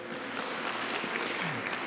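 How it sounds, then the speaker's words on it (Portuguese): Continuous crowd applause at a church service, many hands clapping at once in a dense, even roar with faint voices mixed underneath. "Você pode dar uma salva de palmas para as mulheres?"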